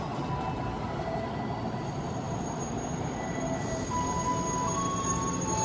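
An Indonesian KRL commuter train sits at a station platform on track 2, giving off a steady low rumble and mechanical hum with faint high whines, continuous and moderately close.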